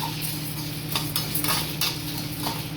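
Dry black pepper and cumin rattle and scrape in a hot pan without oil as they are stirred, a steady soft crackle with occasional clinks, close up.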